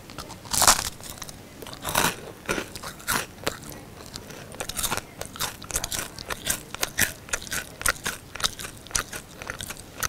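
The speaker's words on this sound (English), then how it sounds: "It is eating biscuits." Crisp biscuits are bitten and chewed close to the microphone, a sharp crunch followed by a steady run of smaller crackling chews and crumbly scrapes, with no voices.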